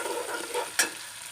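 A steady close sizzle of tomatoes frying in a pan, with a brief scrape of stirring partway through.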